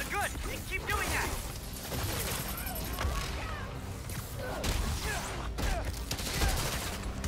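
Gunfire rattles through a combat scene in the video game Spider-Man: Miles Morales, dense rapid bursts and crashing impacts layered into a loud, continuous clatter.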